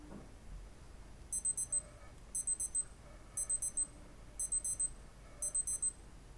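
Five short bursts of high electronic beeping from a Casio G-Shock GWX-5600 countdown timer, each a quick cluster of chirps, evenly spaced about a second apart, close and clear over a quiet room.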